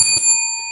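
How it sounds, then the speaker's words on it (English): A single bright ring of a boxing bell opens round 2 in a boxing video game, a clear sustained metallic tone that slowly fades, close and alone. "Let's start round 2, and Norton is our aggressor this time."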